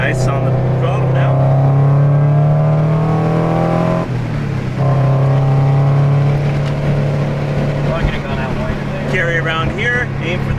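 A Cosworth supercharged Toyota FRS drives hard on the Harris Hill Raceway track, its engine droning loud and steady with a brief dip near the middle before it pulls again, heard from inside the car, with someone talking over it.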